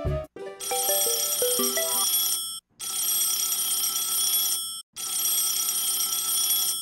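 Cartoon alarm bell from a Plants vs Zombies 2 animation rings loudly and continuously in three long bursts separated by short gaps, after a brief melodic chime at the start, with no talking.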